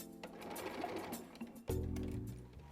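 Sewing machine back stitching while setting in a garment sleeve, a steady close mechanical whir that briefly pauses and then restarts with a louder, deeper hum, with no talk.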